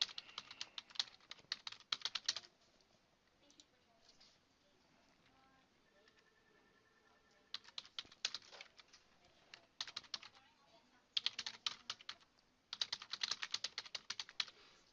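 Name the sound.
typing on a computer keyboard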